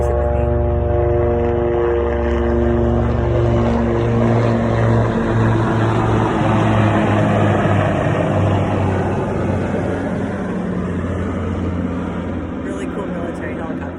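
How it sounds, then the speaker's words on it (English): A military helicopter passes overhead with a loud, continuous rotor and engine drone that swells and holds throughout, steady and dominant from start to finish. "we got a helicopter going up there"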